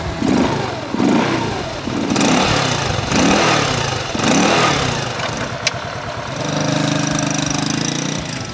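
A Lifan LF125 ADV 125cc motorcycle engine on a test ride, loud and close, rising and falling in repeated rev surges through the gears before it settles into a steadier drone.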